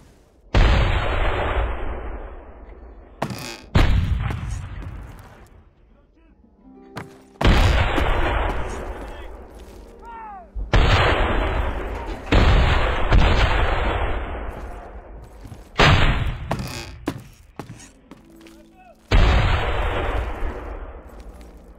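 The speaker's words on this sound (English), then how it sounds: "We are firing from the cannon." Booming cannon shots fire in the Nehrim role-playing game: about a dozen loud, heavy blasts in irregular clusters, each with a sharp crack and a long rumbling decay, and no voices.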